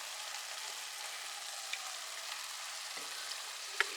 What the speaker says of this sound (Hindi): तो अब इसमें जा रही है टमाटर की प्योरे।